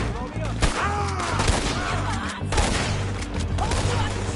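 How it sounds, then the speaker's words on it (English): Gunfire from the video game Red Dead: a rapid fusillade of sharp shots and cracks in a firefight, loud and close, with voices speaking over the shooting. "Told you I could shoot a gun, didn't I?"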